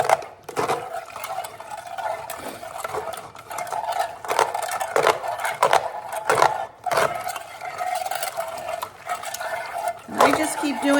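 Cooked homegrown tomatoes being pressed forward and back through a metal strainer, giving repeated scraping and squishing strokes in a steady rhythm, close by, with a voice talking over it.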